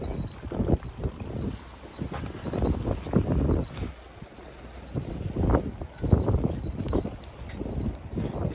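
Strong, constant wind buffets the microphone outdoors while fishing, with broadband gusts that rise and fall in irregular bursts throughout and no speech.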